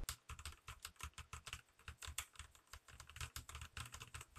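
Rapid, steady typing on a Corsair K65 Plus mechanical keyboard with MLX Red linear switches and PBT keycaps, producing soft, even clacks close to the microphone with no voices.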